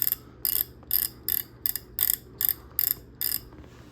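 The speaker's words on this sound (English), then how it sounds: "So you just go to the right and it clicks." Tension knob on an under-desk pedal exerciser being turned, producing about nine crisp ratcheting clicks in an even, steady rhythm, loud and close with nothing else heard.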